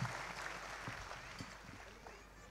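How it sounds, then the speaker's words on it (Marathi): An audience claps to welcome Mahant Vitthalgiri Maharaj at a Shiv Mahapuran religious gathering. The clapping is brief and fairly faint, with a voice over it. "त्यांचं सर्वांनी एकदा टाळ्या वाजवून स्वागत करावं."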